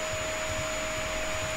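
Vacuum cleaner in a video game, a steady, even electronic whine and hum held at constant level throughout, with no voices.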